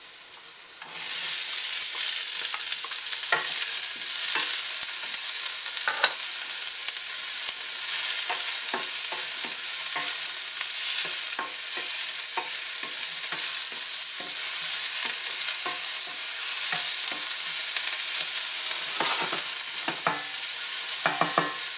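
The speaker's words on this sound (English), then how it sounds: "let's give the onion a chance to turn translucent." Onions for chicken egg rolls fry in a pan with a loud, dense, constant sizzle, starting abruptly and carrying on steadily. Frequent short utensil scrapes run through it.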